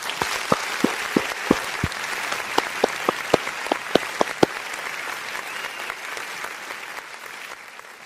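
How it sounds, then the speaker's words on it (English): Applause for a retiring coach, at first a few distinct claps landing one by one, then a steady wash of clapping from a crowd that thins and fades toward the end. "Got to show him some love and get him a little hand clap"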